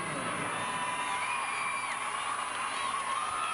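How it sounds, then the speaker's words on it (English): Home crowd cheering and whooping at a collegiate gymnastics championship meet, a steady, sustained roar of a large arena audience filling the whole moment. "The home crowd loves it."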